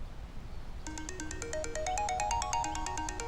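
Mobile phone ringtone starting abruptly and playing a repeating electronic melody of bright pulsing tones, moderately loud over a quiet indoor room.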